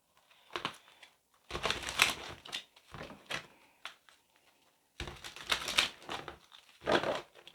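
Tarot cards being shuffled by hand, several short riffling bursts separated by brief pauses, close and fairly quiet, with no talking.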